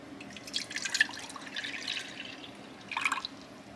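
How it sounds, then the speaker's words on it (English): Milk is poured into a pot heating on a stove, a soft, faint trickling and dripping of liquid with a brief second splash near the end, set against a low steady background hum. "my daughter's going to take this milk and pour it in a pot"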